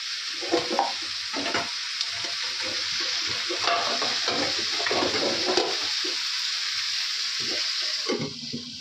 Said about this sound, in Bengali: তো চিকেনটা কষাবো, ঢাকা দিয়ে রাখবো এখন।